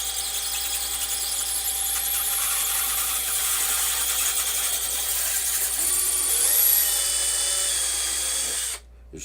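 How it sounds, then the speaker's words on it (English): A power drill with its bit boring through holes in a 3D printed plastic tool box, a continuous high whine and squeal held for several seconds, close and loud, then cutting off abruptly near the end. "It's enough for the drill bit to go through"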